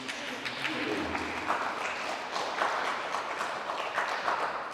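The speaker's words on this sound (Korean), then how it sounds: "축하 박수" Congregation at a Korean church Sunday service in Berlin breaks into celebratory applause, a dense, sustained clapping that fills the room steadily from start to finish with no speech over it.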